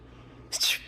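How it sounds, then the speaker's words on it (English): A baby gives one quick, soft sneeze, a brief breathy burst near the end of a short quiet moment, with no talking. "and he'd sneeze."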